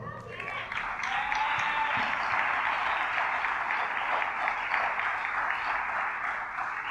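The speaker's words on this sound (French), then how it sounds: "Est-ce que l'Église peut applaudir ça?" A church congregation at a French-language Sunday service claps together in steady, dense applause that fills the room for several seconds.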